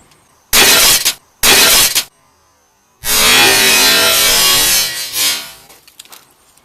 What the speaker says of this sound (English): and glass needs to be broken